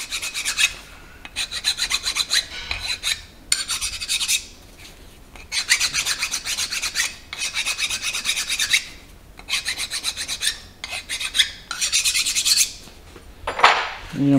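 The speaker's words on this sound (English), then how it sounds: "Clean surface there, and we will deburr all the areas." Hand deburring on a 351 Cleveland engine block: repeated rasping, scraping strokes in bursts of a second or two with short pauses, close and fairly loud, ending with a brief higher squeak.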